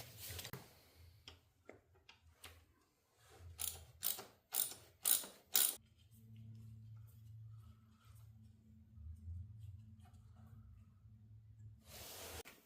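A ratchet cracks loose a timing tensioner shoulder bolt on a Harley Davidson Sportster S, a series of close clicking ratchet strokes building to several sharp loud clacks, followed by a quiet low hum and a final rattle.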